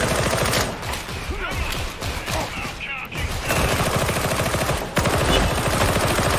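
Sustained automatic suppressing fire in Warhammer 40,000: Darktide rattles loud and rapid, with brief breaks around the middle and near five seconds before resuming, while players talk over the shooting.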